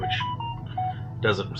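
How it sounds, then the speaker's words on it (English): A mobile phone gives a short series of electronic notification beeps during a paranormal-themed radio show, the tones sounding over ongoing talk. "Sorry, that was my phone."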